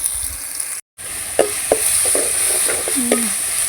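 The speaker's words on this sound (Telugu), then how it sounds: "కొంచెం బ్రౌన్ కలర్ వచ్చే వరకు వేగనిచ్చి" Green chillies fry with ginger garlic paste in a pan, giving a steady, loud sizzle throughout, with a brief dropout and scattered stirring scrapes and clicks on top.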